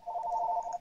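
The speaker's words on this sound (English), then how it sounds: "Never fails, the phone would ring." A phone rings during a live fly-tying webinar, a steady warbling electronic tone held near and fairly loud for under a second, with no talk over it.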